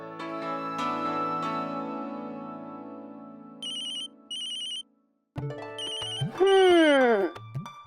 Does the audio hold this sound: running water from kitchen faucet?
no